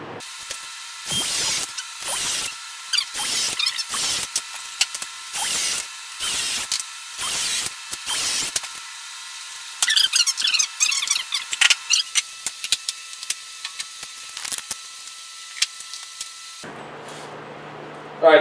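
A power drill drives pocket screws into a lathe stand, making a series of short, close whirring bursts separated by pauses, followed by a faster run of quick pulses.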